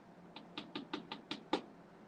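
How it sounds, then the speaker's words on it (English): A bird pecks politely on a front door, like a storybook knock: seven soft, evenly spaced taps, with the last one slightly louder. "Benny politely pecked on the front door."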